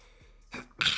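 A single quiet sneeze, a short intake followed by a sharp burst of air, heard alone.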